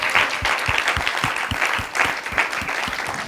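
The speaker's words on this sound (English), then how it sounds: "let's give a round of applause for all of the competitors" A mock trial championship audience gives a steady round of applause for the competitors, with dense clapping throughout and a few sharper, heavier claps standing out near the front.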